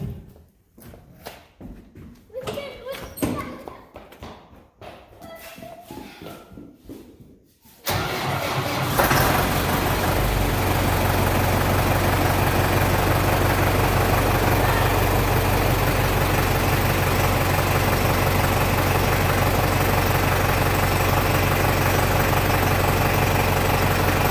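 A tractor engine cranks with rapid rhythmic turning for several seconds, then catches and settles into a loud, steady, close idle as it warms up, with no one talking over it.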